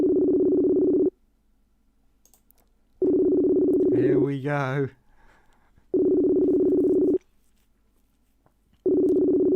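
Phone ringing tone on a live stream call, loud steady bursts of about a second each, repeating at even intervals with silences between, and a brief voice squeezed between two of the rings.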